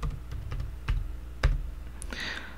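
Light, irregular clicks of a computer keyboard as a password is typed, a few sharper keystrokes standing out among softer taps, close and fairly quiet.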